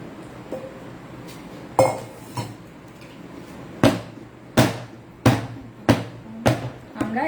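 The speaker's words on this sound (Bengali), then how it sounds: "হুইক্স দিয়ে নেড়ে দিব" A whisk clinks against the sides of a bowl while stirring ice cream, giving sharp, close, irregular knocks that come quicker and in clusters toward the end over a low background hum.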